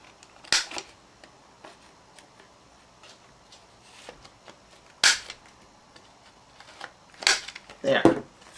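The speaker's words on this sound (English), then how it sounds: "I'm going to just round the corners here. This isn't a Stampin' Up! Corner rounder, but it works just the same." A paper corner rounder punches the corners of a handmade card, giving a few sharp snapping clicks spaced out with pauses, close and crisp, with faint handling noise between them.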